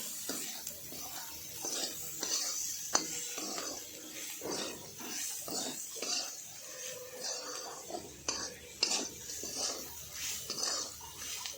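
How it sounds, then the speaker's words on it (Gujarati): Drumstick sabji and masala stirred in a pan, heard as a series of close, uneven scraping and clattering strokes from a utensil against the pan. "હવે આ બધું મિક્સ કરી દઈશું આપણે આ રીતે"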